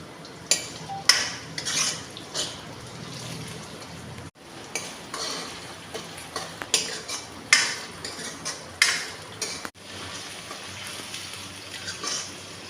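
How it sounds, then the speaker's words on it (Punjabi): Onions being stirred and lightly fried in a pan while cooking aloo gobi, heard as irregular scraping clinks of a utensil against the metal pan over a low, steady background. "ਹਲਕਾ ਜਿਹਾ ਆਪਾਂ ਪਿਆਜ਼ ਨੂੰ ਭੁੰਨ ਲਾਂਗੇ"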